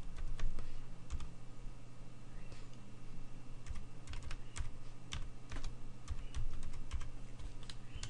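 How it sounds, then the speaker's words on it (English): Rapid typing on a computer keyboard, entering a ping command at a command prompt, with steady close clicking of keys continuing throughout. "if I was to type in ping a web address"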